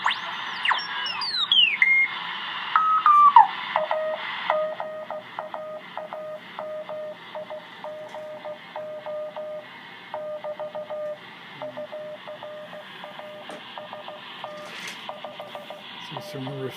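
Morse code CW signals tuned in on the 15 meter band through a Hallicrafters SX101 receiver: repeated keyed tones over a band of static hiss, with other faint stations and a brief tuning sweep early on.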